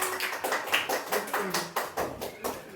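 Schoolchildren in an Indonesian classroom give a round of rhythmic group applause. The claps come in regular bursts about three per second, close and steady, with a faint voice underneath.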